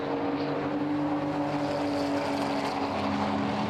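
Porsche 911 race cars compete at Silverstone, giving a steady, sustained engine drone with tonal harmonics, like cars running closely in a pack. The sound continues with no gaps and no speech.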